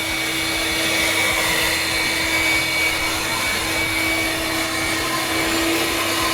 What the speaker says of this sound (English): I pulled out the vacuum because I did notice that there was a few little metal pieces on the roof, so I'm just deep cleaning it